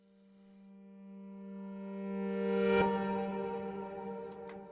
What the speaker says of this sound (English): there is some additional reverb happening on top of the reverse.